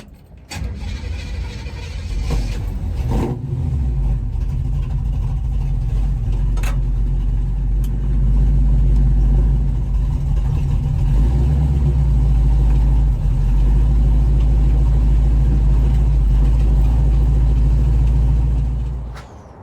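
A 1936 car engine starts with a few clunks, then runs loudly and close, a steady low drone that swells as the car drives along.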